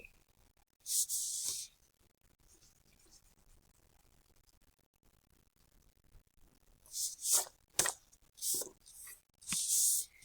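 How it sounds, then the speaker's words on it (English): Eraser rubbed over a pencil line on paper, a few short bursts of close, raspy scrubbing separated by quiet pauses. "Now, I don't need this line, so I'm going to take my eraser. I'm going to erase it."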